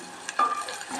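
Vegetables, brinjal with cowpeas, sauté in a pan with a steady soft sizzle, and a few short scraping stirs stand out near the middle.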